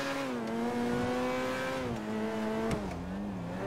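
Car in the video game GTA V accelerating hard, a steady close engine whine that climbs in pitch, briefly dips as the gears shift, then rises again, with no talk over it.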